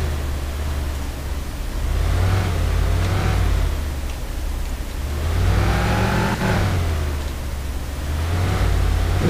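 An ambulance engine in Rettungswagen Simulator 2014 drones steadily, rising and falling in gentle swells as the game vehicle speeds up and eases off, loud and continuous with no talk.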